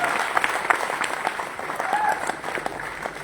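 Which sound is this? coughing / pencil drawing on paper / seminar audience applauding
seminar audience applauding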